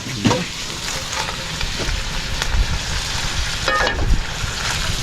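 Ground meat frying in a pan crackles and sizzles steadily, with occasional sharper spatters and scraping stirs breaking through the continuous hiss; no one speaks.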